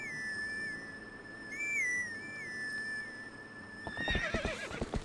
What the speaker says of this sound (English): Let me just calm my horse real quick.